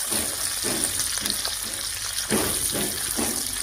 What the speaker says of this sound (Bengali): এবার এই মাছটাকে একটু ফ্রাই করে দিচ্ছি